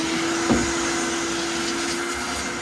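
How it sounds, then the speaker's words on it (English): A vacuum cleaner runs steadily while cleaning out a dryer vent, with a constant droning hum and a brief bump near the start, nothing else standing out. "what we're going to do is basically turn the vacuum on"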